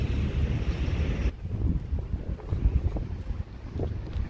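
Gusty wind buffets the microphone with low rumbling bursts, loud at first and then rising and falling in uneven gusts.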